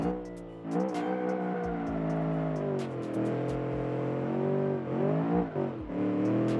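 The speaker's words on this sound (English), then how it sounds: "let's see how this thing will actually run with this Aston Martin V8" An Aston Martin V8 in a stock car in a racing game revs hard and repeatedly, its loud close engine note climbing and dropping through gear shifts with brief lifts between pulls.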